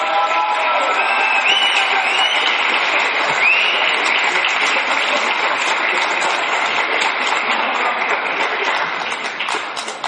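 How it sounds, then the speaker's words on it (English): Students give a big, loud round of applause at a San Pedro neighborhood council board meeting, dense sustained clapping with a few whoops, holding steady for about ten seconds before easing slightly at the end. "the students at Pedro and I are going to give me a big, loud clap"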